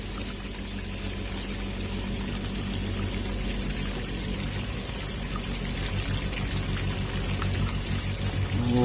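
Small RC car on Mickey Thompson Baja tires splashing and churning through water, a steady sloshing wash with spray that builds slightly louder toward the end, no voices.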